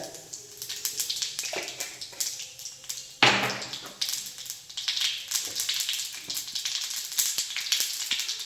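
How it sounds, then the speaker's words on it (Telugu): Cumin seeds, mustard seeds, chana dal and urad dal crackling in hot oil for a chutney tempering, a close, steady sizzle with scattered pops and one sharp burst as more goes into the pan. "పచ్చడి మనం తిరగమూత వేసుకుందాం ఫ్రెండ్స్. కొంచెం లైట్గా జీలకర్ర,"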